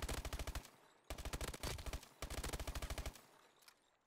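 Automatic weapon fire from a gun in Call of Duty: Advanced Warfare: three rapid sustained bursts of closely spaced shots, loud and clear, separated by brief pauses, with no talking.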